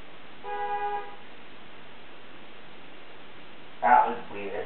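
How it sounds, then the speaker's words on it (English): A car horn honks once, fairly distant and brief, then a voice briefly speaks after a stretch of quiet background hiss. "Somebody just honked their horn."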